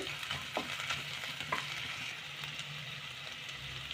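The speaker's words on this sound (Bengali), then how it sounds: "পেঁয়াজ বাটা সেটা দেব নেড়ে নেব একটু" Onion paste sizzles steadily in hot oil in a pan for chola, with a spatula scraping and stirring in soft, irregular strokes; close, low and continuous.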